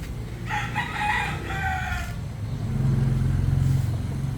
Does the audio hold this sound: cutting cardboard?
no